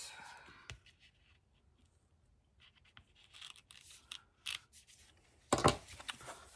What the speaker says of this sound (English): I'm gonna cut this apart.